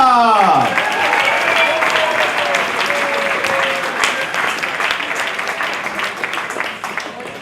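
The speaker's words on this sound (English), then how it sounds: "give a warm round of applause to Michael Weintrob" A warm round of applause welcomes photographer Michael Weintrob to the stage, a full, dense crowd clapping that begins over the tail of an announcer's voice and gradually thins out.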